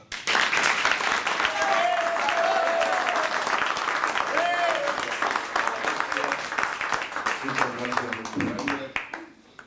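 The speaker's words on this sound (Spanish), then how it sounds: "¡Fuerte ese aplauso!" Sustained, loud audience applause for a guitarist and his accompanist at a gathering of friends, broad clapping with scattered voices and cheers over it, fading toward the end.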